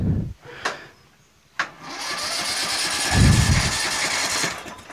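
A Craftsman 20-inch mulcher push mower engine is cranked without starting: a few sharp clicks, then a sustained whirring crank that never catches.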